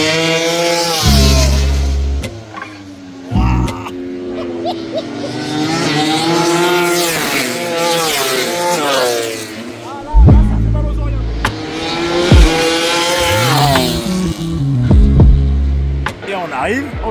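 Racing motorcycles scream past at very close range on a race circuit, several rising and falling engine howls in quick succession, with people talking between the passes.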